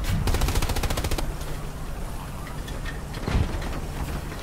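Rapid machine gun bursts rattle in the World War II shooter Hell Let Loose during tank play, with a fast run of shots up front and a shorter burst later over a constant rumbling battlefield background.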